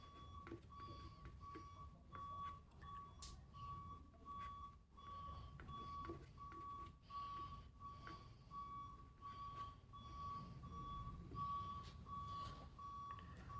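A truck reversing up a residential road near Gruinard Bay, its reversing alarm sounding a faint, evenly spaced tonal beep throughout over quiet outdoor ambience, with distant low engine rumble.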